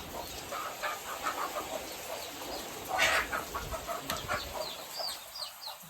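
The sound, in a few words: hen clucking and running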